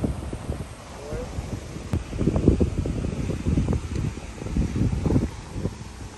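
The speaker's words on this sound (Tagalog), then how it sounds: "Lakas ng hangin against the wind." Strong gusts buffet the microphone on a golf course, a rough low rumble that swells and eases in uneven surges, with faint voices talking beneath it.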